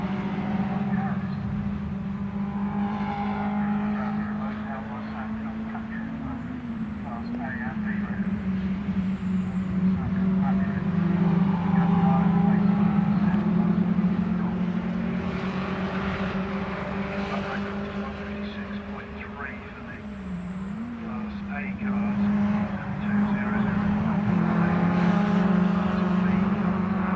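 MG Trophy race cars lap Oulton Park in qualifying, engines droning steadily with a few rising and falling passes, under continuous commentary.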